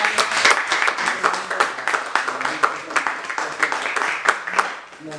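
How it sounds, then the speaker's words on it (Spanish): Clapping from a church congregation welcoming a history lecturer, distinct hand claps in an uneven rhythm rather than a smooth roar, with voices and some tonal sound mixed in, fading near the end. "con un fuerte aplauso para darle"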